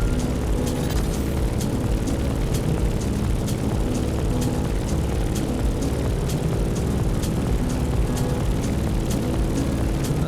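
A steady, loud airplane engine drone with propeller hum from the video game The Crew Motorfest, flying through turbulence, accompanied by faint regular clicking, with no voices.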